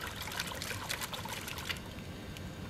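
Water trickles and sloshes as a rock sample is washed in a gold pan, with a steady, close splashing and pouring sound that eases slightly toward the end, with no speech.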